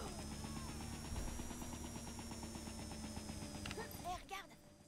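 A drone flies in LEGO Marvel's Avengers, a steady whirring, buzzing rotor drone holding at moderate loudness throughout, with a few brief clatters near the end.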